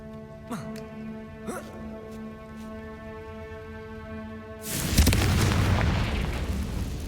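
A Confringo fire spell in the game Hogwarts Legacy bursts into a loud, broad explosion that rumbles on for a couple of seconds, following a quieter stretch of game ambience with a steady hum and a couple of soft swooshes.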